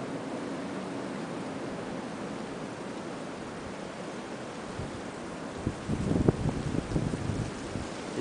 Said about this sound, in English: You can see how the wind is blowing the snow sideways